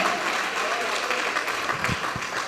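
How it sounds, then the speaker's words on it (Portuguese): Church congregation applauding in a busy wash of clapping, with a voice or two faintly audible underneath. "Aplausos para Jesus, adore o nome do Senhor, Ele merece."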